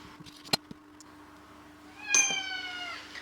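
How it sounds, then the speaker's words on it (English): A cat lets out one drawn-out, plaintive meow after a couple of faint clicks, moderately close in an otherwise quiet room. "Please excuse my cat, I don't know what's wrong with him."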